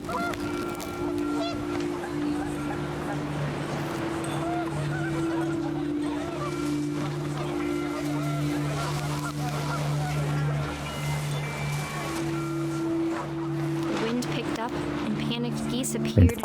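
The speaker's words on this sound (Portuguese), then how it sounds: "gansos assustados apareceram e logo se foram" Frightened geese honk in What Remains of Edith Finch, a steady run of honks over a continuous low ambient drone, with the level swelling briefly near the end.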